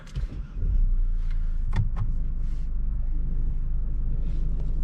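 A 2020 Mercedes E200d diesel engine idles with a steady low rumble and clatter, close by, with a couple of brief clicks near the start; the noise lessens as it warms up.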